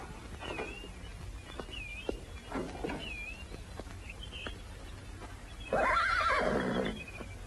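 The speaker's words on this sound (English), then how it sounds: "Looks like a fine horse." A horse neighs in a long loud whinny near the end of an Old West scene, preceded by faint chirps, scattered thuds and light movement, with no one speaking.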